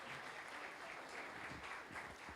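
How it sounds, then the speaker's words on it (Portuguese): A church congregation applauds a pastor with continuous, even clapping that sounds quiet and distant throughout, with no voices over it. "Dê uma salva de palmas"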